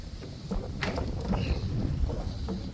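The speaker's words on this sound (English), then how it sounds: "coming outside, even though it's windy" Gusty wind buffets the microphone outdoors, a rough low rumble with some faint clattering in the background.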